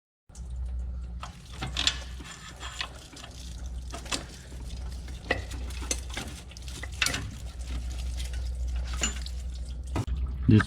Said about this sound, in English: it's dropping a lot more coolant, so make sure you have a bucket underneath there